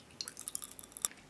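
Pop Rocks crackle and fizz inside a scoop of blue sorbet vanilla ice cream swirl, with a close, faint run of tiny irregular pops and one sharper snap near the end, no talking.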